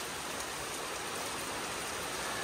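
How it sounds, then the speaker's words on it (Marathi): Rain pouring steadily in Malvan, a dense, even hiss of falling water with no gaps or voices across the whole stretch, moderately loud and close. "सकाळपासून पाऊस नव्हता मालवणला आणि आता पाऊस आलाय"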